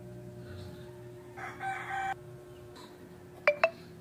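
Farmyard turkey calls near a pen beside freshly repaired concrete: two sharp, loud gobbling bursts close together near the end, after a few quieter fowl sounds over steady low background hum.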